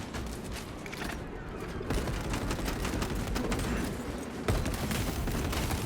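A servo gun fires in the Deathwatch video game, a dense, continuous rattle of rapid automatic shots with booming impacts, loud and unbroken apart from brief dips between bursts.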